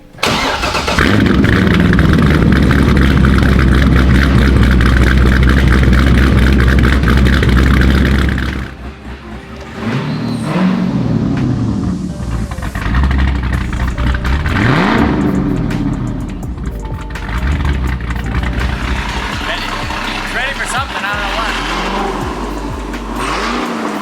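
A C6 Corvette Z06 engine cranks and roars to life, revving loudly and steadily, then drops to a rougher, uneven idle with intermittent throttle blips, still not starting perfectly.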